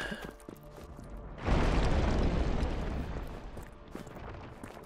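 A grenade goes off and brings down a bridge in the video game Just Cause 3, a sudden loud boom followed by a long rumbling roar that slowly fades.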